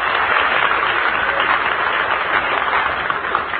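A 1946 Hollywood radio broadcast studio audience bursts into loud, steady applause and cheering, a dense wash of clapping that holds evenly throughout with a slightly muffled, vintage broadcast quality.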